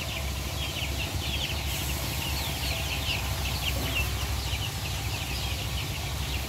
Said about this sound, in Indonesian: Nah, ini ayam-ayamnya nih.